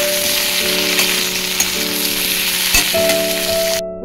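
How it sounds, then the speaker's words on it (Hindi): Mushrooms frying in hot oil in a kadai while an Odia mushroom masala is cooked, giving a steady, loud, close sizzle with no pauses, and a faint tonal hum running beneath it. "एबे सेही कड़ाई रे हमर तेल गरम हो गला। एबे आमे छतु को रखिथिले जो पकईकी भाजीदेवा।"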